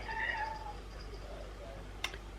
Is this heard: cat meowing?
yes